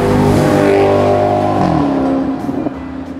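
Maserati GranTurismo engine revs loudly with a rising, harmonic-rich tone, then the pitch sweeps down and settles, close and alone without talk.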